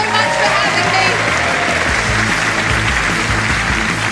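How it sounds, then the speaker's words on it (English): A comedy show audience applauds the comedians with loud, sustained clapping that fills the whole stretch, and a voice talks over the top of it. "give a round of applause for all the comedians you've seen tonight"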